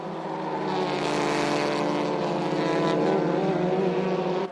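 Touring race cars, including a Honda Civic Type R, pound around the Sydney Motorsport Park circuit in a loud, sustained engine roar that swells slightly as they pass.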